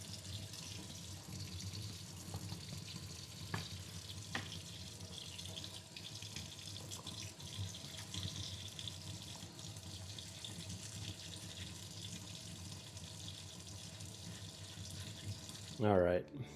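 Tap water runs steadily into a sink while cut pieces of fossilized coral are washed, a constant close hiss with a few small knocks and a brief splash near the end.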